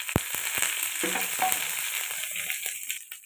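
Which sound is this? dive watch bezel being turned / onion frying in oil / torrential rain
onion frying in oil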